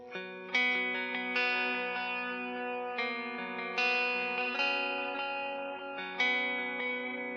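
Clean electric guitar notes ring out, each followed by softer dotted-eighth delay echoes that fill the gaps between the picked notes in a steady rhythmic pulse.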